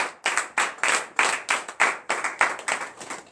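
A congregation at a morning prayer service in Benin claps in a steady rhythm of sharp, loud, close hand claps.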